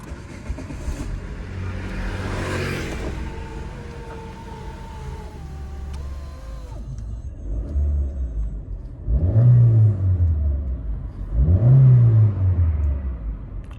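A car engine fitted with a turbo fan revs hard in several bursts, rising and falling in pitch, with two loud, swelling surges near the end; no one speaks.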